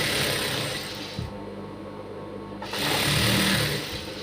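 A sewing machine runs in fast continuous bursts while stitching a blouse lining, its motor whirring close and loud with a short pause partway through and no voices.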